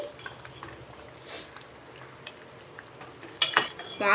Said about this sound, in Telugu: ఇంకా ఐదు నిమిషాలు అయిన తర్వాత మూతను ఓపెన్ చేసి ఒకసారి మిక్స్ చేయండి